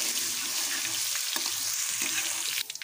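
Garlic paste frying in hot oil in a karahi gives a steady, close, loud sizzle with occasional stirring scrapes and a few soft clinks near the end.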